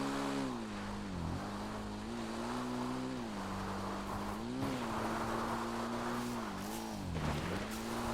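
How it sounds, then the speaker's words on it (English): A car engine hums steadily in GTA Online, its pitch rising and dipping with gear changes and throttle as it drives along a road, continuous and fairly close with no talk. "Sometimes there is a car which would then be coming up and down this particular road, so watch out for that."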